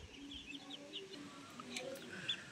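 White layer hens cluck softly inside a farm shed, with faint, scattered calls over a quiet background.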